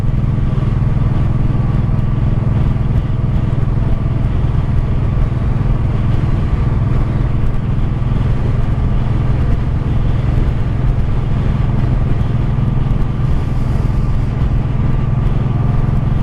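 A 1984 Honda Shadow VT700C cruising on the road, its engine a steady low rumble mixed with constant wind and road noise for the whole ride.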